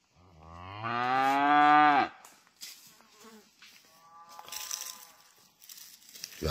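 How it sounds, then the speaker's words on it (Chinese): Cattle grazing freely in a mountain forest: one cow lets out a long, loud, close moo, followed after a pause by a fainter, more distant moo, with insects and light rustling around. "远处还有牛叫呢。"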